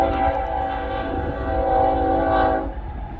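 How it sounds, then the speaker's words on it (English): A loud train rumbles past nearby with steady engine drone and harmonic tones, a low hum that swells and then begins to fade near the end. "Got a noisy train going by."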